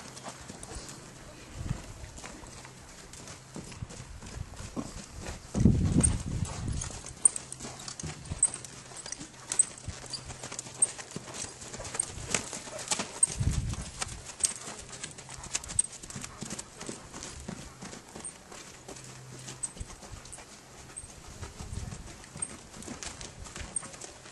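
Horse hooves clip-clopping in an arena during a groundwork exercise, a steady scattered patter of steps at moderate distance, with occasional louder thumps and someone talking intermittently over the movement.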